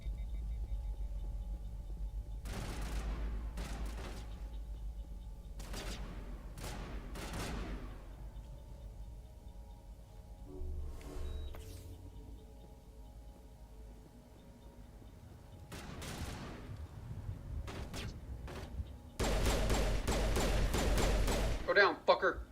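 Gunfire in the video game Mass Effect crackles in scattered bursts of sharp shots and thuds over low rumble, ending in a dense, louder volley.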